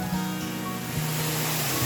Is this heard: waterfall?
yes